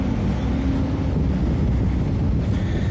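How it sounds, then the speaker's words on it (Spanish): Ferry engines idling and warming up aboard a French-flagged ship in port, a dense, steady low rumble with wind buffeting, loud and continuous with no voices. "Si hay ruido, va a ser de los motores. Están ya en marcha, calentando motores,"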